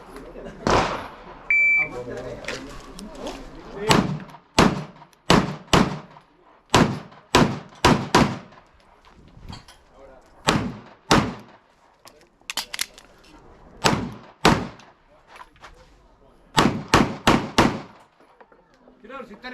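Handgun shots ring out on an IDPA shooting stage at a Chilean interclub match, a long irregular string of loud, sharp cracks in quick pairs and bursts, with a few voices heard before the firing begins.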